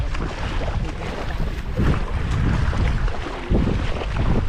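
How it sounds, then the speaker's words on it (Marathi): Strong wind roars and buffets the microphone in loud gusts over open sea off Mumbai, with a low rumble of a boat and water underneath. "आज वारा पण खूप आहे"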